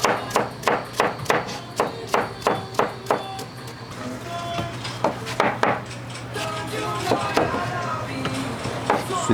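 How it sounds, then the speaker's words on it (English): Sweet pepper chopped on a board for conch salad in Bimini: a quick run of about a dozen evenly spaced knife strikes, then sparser cuts and handling clatter while someone talks. "Three slices, 4 slices of sweet pepper."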